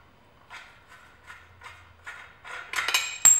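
Bicycle fork headset parts being loosened by hand on a bike in a shop, giving a string of soft metallic clicks and small clinks at a steady pace, ending in a brighter metal rattle and a sharp tap, close and alone.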